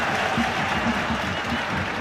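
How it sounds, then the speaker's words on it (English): A home football crowd at Kilmarnock applauds Congolese midfielder Mulumbu during a match against Celtic. The clapping is a steady, dense wash from a large stadium audience that holds even for the whole moment. "the home crowd showing their appreciation for the Congolese midfielder"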